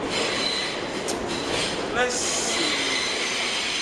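Interior of a New York City subway A train riding the rails, steady loud rumbling with wheel squeals and clatter, while a person speaks briefly.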